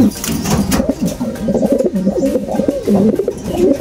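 A champion racing pigeon coos repeatedly in loud, rolling, throaty phrases up close, filling the whole stretch with steady, overlapping calls and no talk.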